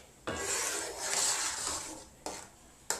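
A spoon scrapes and rasps around a pot of local fish stew in long, steady stirring strokes, close and moderately loud, followed by two short scraping bursts near the end.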